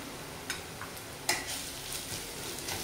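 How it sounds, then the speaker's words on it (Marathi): Soft continuous sizzle of homemade masala with Kashmiri chili powder and garam masala frying in oil in a pan, with occasional spoon scrapes and stirring clicks, close and quiet, no talking. "आता हे छान असं तेल सुटेपर्यंत 2 मिनिटं आपण चांगलं असं परतून घेऊया"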